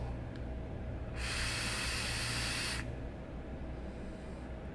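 Air rushes through a Hellvape Passage RDA rebuildable atomizer fitted with dual fused Clapton coils at 70.5 watts, a steady broad hiss of draw lasting under two seconds over a low background hum, then falling silent.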